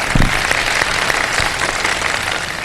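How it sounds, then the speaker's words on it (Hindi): Studio audience at a Ramadan iftar quiz show applauding the contestants, a loud continuous burst of clapping with a few sharper claps standing out near the start. "हमारे कंटेस्टेंट्स के लिए बहुत सारी तालियां।"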